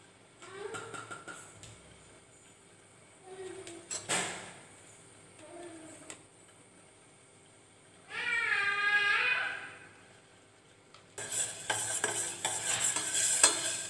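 Ghee and beetroot juice heat in a pan for homemade lip balm, stirred with a spoon in several short scraping bursts, with a louder sizzling, bubbling passage in the middle and a brief hiss near the end.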